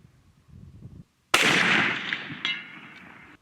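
A custom Hankins muzzleloader rifle loaded with smokeless powder fires one loud, sharp shot after a brief low rumble, its blast decaying over a couple of seconds with a faint echo.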